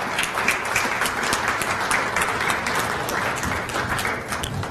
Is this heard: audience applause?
yes